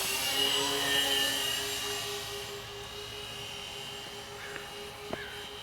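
An Avios Kingtwin 1700 twin-engine RC model airplane makes a low pass with gear down and flaps out, its high motor whine steady, then fading as it moves away, with a couple of faint short blips.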